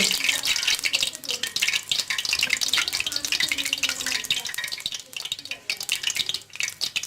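A spice paste fries in hot ghee for flour pakoras, crackling loudly and steadily with a spatter-like hiss and scraping stirs that dip briefly near the end.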